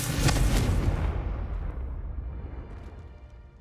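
Explosive spell blasts from Hogwarts Legacy: one loud, booming burst at the start rumbles on, then fades away over a few seconds with no talking.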